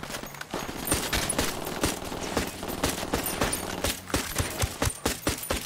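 Pistol gunfire in the Ghost Recon Wildlands video game: a loud, close run of rapid, sharp shots cracking out one after another across the whole stretch, with dense overlapping bursts and no pause.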